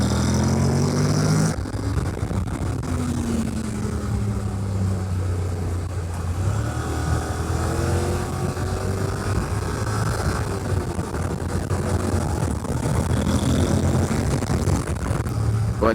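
A 2026 Honda NC750X DCT motorcycle runs at speed on a track, its engine note rising and shifting beneath heavy, continuous wind rush.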